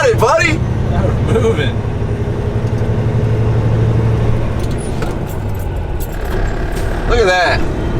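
Truck engine running with a steady low rumble as it pulls away loaded with a trailer, with voices talking over it throughout.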